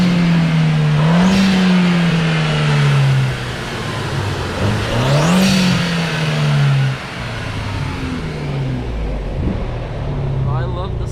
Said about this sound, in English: That blow-off valve is fire.